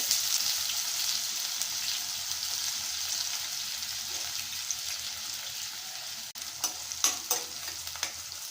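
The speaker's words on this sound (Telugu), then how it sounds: "ఉల్లిపాయలను దూరగా ఎర్రగయ్యే వరకు వేయించుకుందామండి" Onions and curry leaves fry in a pan with a steady, fairly quiet sizzle, then sharper scraping stirs and clinks near the end, heard up close without speech.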